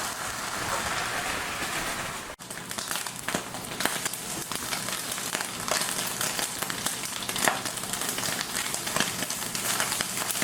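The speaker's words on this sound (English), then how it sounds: "So we'll go ahead and cook off our turkey bacon." Turkey bacon frying in a pan, a dense, continuous crackling sizzle with scattered sharp pops, close and steady throughout after a brief break near the start.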